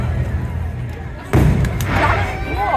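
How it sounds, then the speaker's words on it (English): Fireworks at an outdoor holiday parade event, a sudden loud boom followed by crackling bursts in the distance, with people talking nearby. "that's a lot of fireworks"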